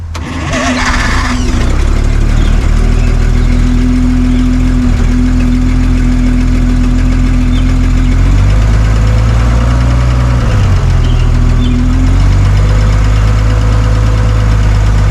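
The engine of a cold 1962 Hyster forklift with a rebuilt Zenith single-barrel carburetor cranks, catches and settles into a loud, close idle that rumbles steadily, with a few shifts in speed, and no talk.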